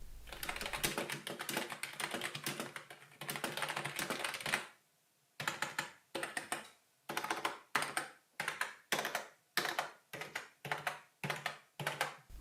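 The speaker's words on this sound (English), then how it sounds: "The typing experience was as expected for a membrane keyboard" Fast, dense typing on a soft Logitech G213 membrane keyboard, then slower bursts of key presses with short pauses between them, close up and with no talking.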